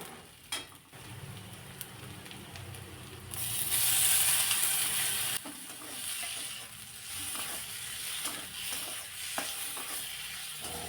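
Chopped tomatoes sauté in a pan for a gram-flour fenugreek pithla, a faint, soft sizzle that swells into a louder hissing burst midway, then settles back under light stirring sounds.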